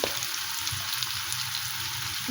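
Onions and salt sizzle in a hot pan, a steady close frying hiss with faint crackles running throughout without any talk.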